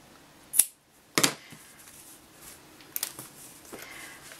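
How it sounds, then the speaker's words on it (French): Scissors snipping through yarn, two crisp close cuts about half a second apart followed by a few faint clicks and handling sounds, no talk. "je vais couper mon fil."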